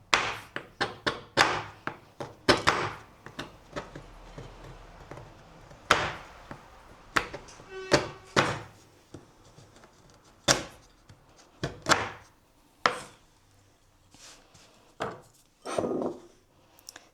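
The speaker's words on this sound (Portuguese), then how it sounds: "Vou picar esse chocolate para colocar na cuca." A knife chops semi-sweet 70 percent dark chocolate on a board for a cuca, with sharp, irregular thunks and taps spaced through a quiet room, sometimes in quick pairs, close and clear, and no voices.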